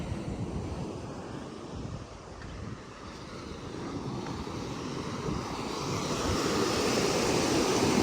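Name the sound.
ocean waves at Kottukal Beach, Pottuvil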